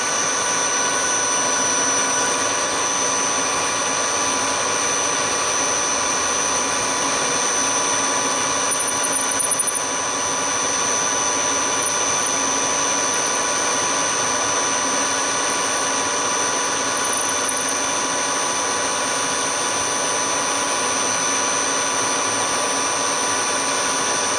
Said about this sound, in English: What we're doing is just going to drill through here until we hit the hole